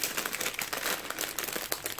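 Plastic packaging around a one-pound card stock scrap pack crinkles loudly and continuously up close as it is handled, with dense bursts of crackling throughout.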